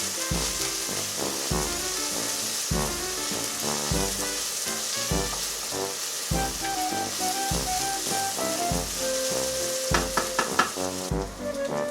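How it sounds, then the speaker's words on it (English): Onion and garlic sizzle steadily in a pan for a fish curry, a loud continuous frying hiss broken by rhythmic scraping strokes of stirring, with tonal clinks throughout. "stir for a few minutes until the onion and garlic getting brown."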